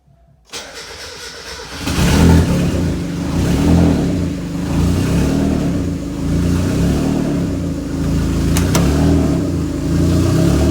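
A turbocharged Mazda Miata engine cranks and catches on its first start, then settles into a loud, steady, rumbling idle with slight surges, heard up close.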